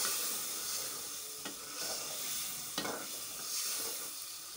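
Potatoes go into a curry frying in a pan, giving a steady sizzle broken by a few sharp stirring scrapes and clatters.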